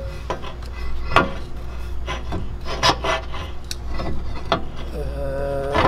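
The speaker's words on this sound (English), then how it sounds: "We're now gonna put the frame reinforcement bracket on, and this top hole here that focuses is gonna go onto the stud" A frame reinforcement bracket is fitted onto a 3/8 stud during a hidden winch mount install on a 4th-gen RAM Rebel, with repeated metallic scrapes, clinks and rubbing close by and a faint low hum beneath.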